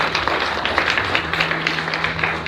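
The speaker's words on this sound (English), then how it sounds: "give a big round of applause to the Grace Lutheran Church group on that side with Pastor Crockett" Audience at a 2019 gala clapping for a church group, a dense, steady burst of many hands applauding together at close, even loudness throughout.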